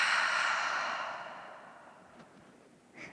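A long breath exhaled through the mouth during a yoga breathing exercise, breathy and close, fading out over a couple of seconds with a faint small breath at the end.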